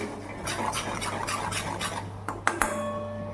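A spoon stirs and scrapes a ground mixture roasting in ghee in a pan, rhythmic soft scraping strokes followed by a couple of sharp metallic clinks, close and moderately loud without speech.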